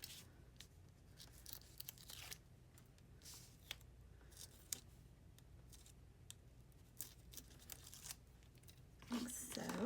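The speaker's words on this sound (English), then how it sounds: "remove the backing strip" A backing strip is peeled off adhesive tape for a Stampin' Up! paper craft, giving quiet, crackly tearing and crinkling close by. It ends in a louder burst of peeling.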